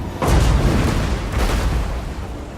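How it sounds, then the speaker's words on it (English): Cannon salvo in the video game Total War: Warhammer, a loud booming blast with a rumbling tail followed by a second heavy report, dense battle noise underneath. "Look at that cannon fire."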